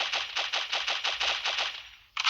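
Rapid automatic gunfire from the mobile shooter game Pixel Gun 3D rattles off in a fast, even burst of about a dozen shots, close and loud, then cuts out before one more shot at the end.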